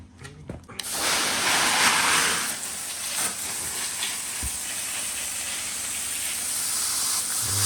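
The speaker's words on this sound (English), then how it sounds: "Let's grab the hose and get rid of these." A garden hose sprays water to clean spa filters, a loud steady hiss that starts abruptly after a brief knock and runs unbroken to the end, close to the microphone.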